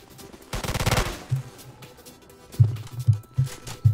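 Turret gunfire in the Roblox shooter Polyguns: a rapid automatic burst opens, followed by a string of quicker, punchier single shots, all close and loud with no talk.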